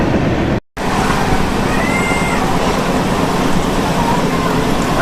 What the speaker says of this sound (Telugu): అనుకున్నట్టుగానే వాన అయితే స్టార్ట్ అయిపోయింది.